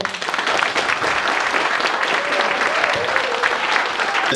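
Sustained applause from a party audience at a Democratic Party lecture in Anseong, dense and steady throughout, with a faint tonal voice or feedback line partway through.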